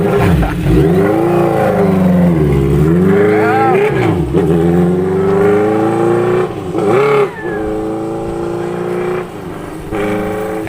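A big motorcycle engine revs up and down repeatedly, its loud deep growl rising and falling in pitch, steady and close throughout.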